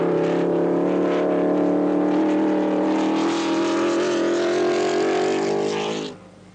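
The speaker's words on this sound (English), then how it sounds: "young Musso in the Maserati has got past Taruffi" A 1955 Maserati Formula 1 race car at the British Grand Prix, a loud sustained engine roar with a slowly shifting pitch, close and dominant, cutting off abruptly near the end.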